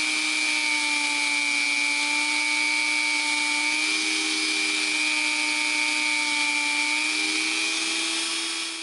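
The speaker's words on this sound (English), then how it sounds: "once you get done polishing, we can go ahead and set the stone." A power polishing tool buffs a wire-wrap pendant with a continuous, even whirring hum and faint rubbing hiss, steady throughout with no voices.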